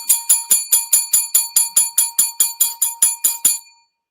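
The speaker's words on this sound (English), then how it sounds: "Are you done playing with your little bell?" A small hand bell is rung in quick, even strokes, about fifteen bright, ringing chimes close by and alone, before it stops and the last tone fades out.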